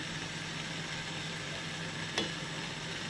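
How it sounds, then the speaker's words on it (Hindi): Tomato ketchup is stirred into a sweet chilli garlic sauce in a pan, with a soft continuous simmering sizzle and a single faint scrape of the spoon partway through. "उसको अच्छी तरह मिक्स करें ताकि टमाटो केचप जो अच्छे से इसके अंदर जो है मिक्सअप हो जाए"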